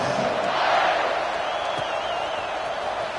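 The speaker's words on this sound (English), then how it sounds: "this crowd now ready to get behind them" A football stadium crowd roars steadily ahead of a kickoff after an 81-yard drive, a broad sustained cheer with a faint whistle or shout rising above it, loud and continuous throughout.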